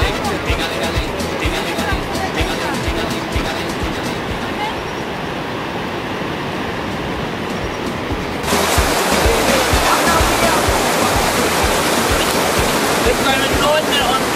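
Kaieteur Falls in Guyana, a dense broadband roar of falling water that grows noticeably louder partway through, with people talking over it.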